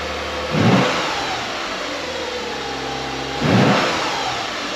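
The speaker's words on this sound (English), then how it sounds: "We'll do a quick cold start, blip the throttle a couple times" A 2006 Lexus IS with stock exhaust idles steadily on a cold start, with two quick, loud throttle blips a few seconds apart, close to the microphone.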